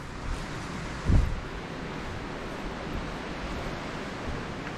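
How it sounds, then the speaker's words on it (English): Steady wind roars and buffets across the microphone in a Cornish valley, a broad rushing noise with one brief louder thump of gusting. "You can obviously hear the wind rattling around me."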